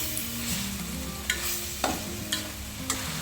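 Chicken sukka being stirred with sukka powder in a pan over a steady close sizzle, with four sharp scrapes of the spoon against the metal spaced about half a second apart; no one speaks.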